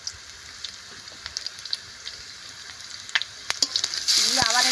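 Ginger and garlic paste frying and being stirred in a pan for a village-style taro leaf and shrimp dish, with crackling sizzles and scraping stirs that swell into a loud burst of frying near the end, no talk.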